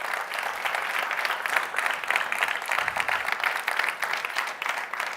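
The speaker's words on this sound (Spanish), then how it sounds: "un aplauso, por favor" An audience at a foundation's strategic plan presentation applauds, a steady wash of many hands clapping at moderate level throughout, with no talk over it.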